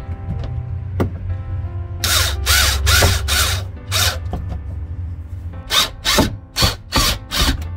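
A power drill driving screws through hinges into a wall during assembly of a Suncast 160-gallon deck box, heard as close, loud whirring bursts, several in a row in the middle and another quick series of short pulses at the end.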